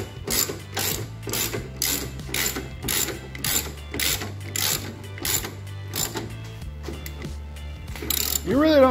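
A hand ratchet clicks in quick repeated bursts as it tightens a nut on the air filter plate of a Takeuchi TL8 track loader, close up with brief pauses between strokes.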